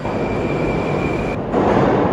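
Loud continuous rumble of a Tashkent Metro train running, with a steady high whine that cuts off and a heavier roar of wheels on track following.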